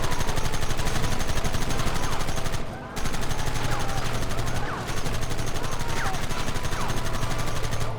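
Sustained gunfire in a Red Dead Redemption shootout, dense rapid shots crackling continuously across the whole stretch with only brief dips, loud and close amid battle noise.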